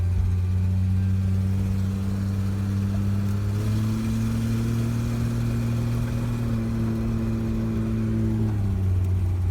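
A 1964 Ford Falcon four-door, recently revived after sitting abandoned, drives along with a steady engine drone that rises, drops briefly through a gear shift near the end, then carries on; no one speaks.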